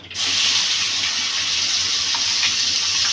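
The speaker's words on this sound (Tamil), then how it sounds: "கடுகு நல்லா பொரிஞ்சிச்சு. நம்ம இப்போ இதை தாளிச்சிக்கலாம்." Mustard seeds spluttering in hot oil while tempering for pirandai thogayal: a loud, steady sizzling hiss that runs the whole time, with a few faint pops scattered through it.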